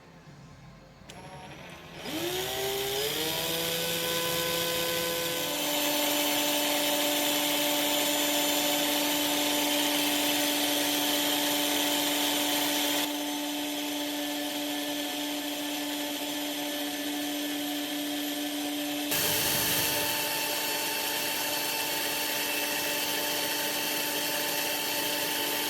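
A power drill twisting wire for a Clapton vape coil whirs steadily for a long stretch, its pitch rising as it spins up, then holding a loud continuous whine with slight changes in load.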